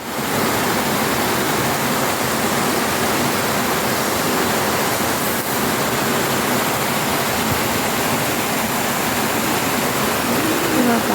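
Heavy storm rain from Cyclone Remal roars in a dense, unbroken wash of noise, loud and constant throughout.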